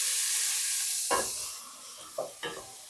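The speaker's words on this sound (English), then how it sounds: "now I'm going to add the mirepoix to the pan, and we are going to let it cook until there's like no moisture." Mirepoix sizzles in olive oil in a pot, a steady hiss broken by three stirring bursts with scraping clatter, close and alone without talk.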